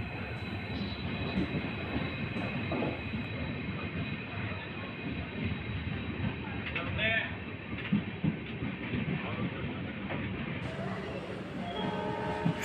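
Sampark Kranti express train pulling into Davanagere railway station, a steady rumble of rolling wagons with brief squealing and a horn-like tone, with a voice talking over the noise throughout.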